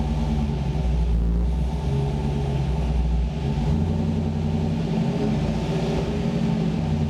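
LT-swapped Pontiac Trans Am with a 6L80e automatic pulling away in first gear, a deep continuous engine rumble and drone heard close from inside the car, steady and loud throughout.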